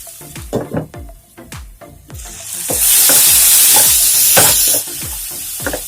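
Vegetables and tomatoes for vegetable kurma are stirred in a pan with a run of sharp scraping knocks, then a loud hissing sizzle swells for a couple of seconds and fades back to stirring.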